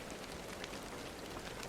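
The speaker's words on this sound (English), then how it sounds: "Right now, yes, it's rainy and lightning-y." Steady rain pours down in the video game Star Citizen, a dense, even hiss of drops on surfaces filling the whole moment without pause or voices.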